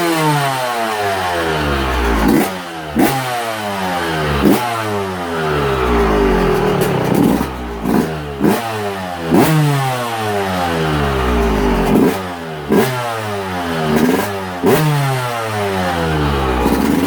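A two-stroke dirt bike engine, started cold, idles and then rises and falls through a long series of sharp revs, close and loud throughout with brief crackling dips between the revs.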